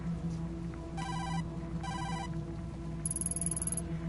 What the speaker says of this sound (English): The ringing is coming from inside.